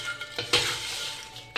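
Dry lychee shells stir-fried in a wok with a spatula, bursts of rattling, scraping crackle between brief pauses, close and fairly loud, the last scrape sharper.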